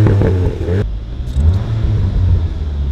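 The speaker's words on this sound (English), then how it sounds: "I'm just feathering the accelerator, and you know what? It's delivering what the RS3 delivers, the burble." A 2019 SEAT Leon Cupra hot hatch in sports mode gives off a deep, steady low exhaust burble as the accelerator is feathered, loud and close. A short engine swell opens the clip, and then a continuous rumble carries on alone.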